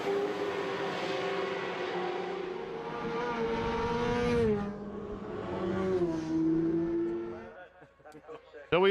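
Racing sidecar motorcycles scream around the Southern 100 road circuit in loud, rising and falling engine howls with a downshift near the end, a race commentator talking over them throughout.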